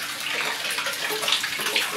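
Water runs steadily from a household tap, a continuous close splashing hiss with no talk over it.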